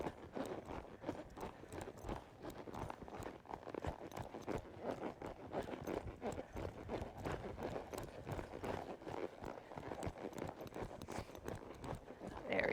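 A horse trotting on the ground while being worked on a line, its hooves beating a steady, continuous rhythm of soft thuds close by throughout, with no voices.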